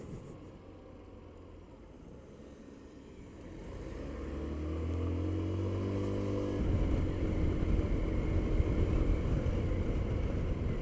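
Scooter engine while riding on a short trip to an allotment: a steady low engine drone with wind rush that swells after a few seconds and stays loud and continuous throughout, with no talk.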